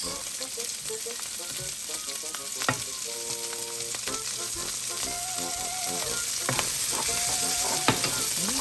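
Garlic and onions fry in a pan, a loud, steady sizzle with occasional sharp clinks and scrapes from stirring, and no voices.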